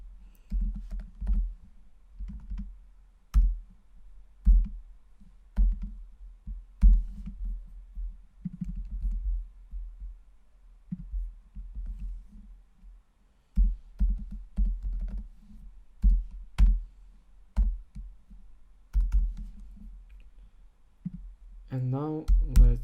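Bursts of computer keyboard typing, close and crisp, come in irregular clusters of clicks and key presses while someone enters code, with brief pauses between runs and a short spoken moment near the end.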